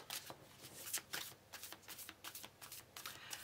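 Tarot cards being shuffled by hand, a quick run of soft riffling flicks and slaps, close and quiet, with no talk.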